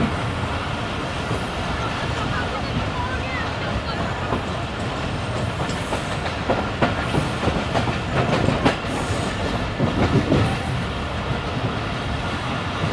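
Karachi Express train running on the tracks as it changes onto the loop line by a platform, a loud continuous rumble with rhythmic clickety-clack of wheels and faint high squeals, heard from inside the moving train.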